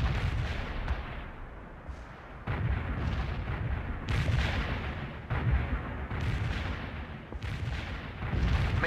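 Artillery fire in the real-time strategy game World in Conflict, Soviet assault on a bridge below a hill in the Cascade Range: heavy booming salvos land in waves every second or two, with a dense rumbling low end.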